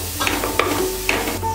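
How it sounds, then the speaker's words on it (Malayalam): Cauliflower kaalan masala sautéed in a pan on a low flame, a spatula scraping and stirring in a few quick strokes over a close, loud sizzle. "അതുകൊണ്ട് ലോ ഫ്ലെയിമിൽ ഇട്ടിട്ട് നമുക്ക് നന്നായിട്ടൊന്ന് ഇതുപോലെ സോട്ട് ചെയ്ത് കൊടുക്കാം"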